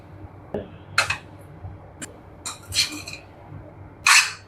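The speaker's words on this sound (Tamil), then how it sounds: "நல்லா கலந்து விட்டுடலாம்" Lemon rice being stirred and mixed in a metal pot, a few separate scrapes and clinks of a spoon against the pot spaced across a quiet background, with one louder scrape near the end.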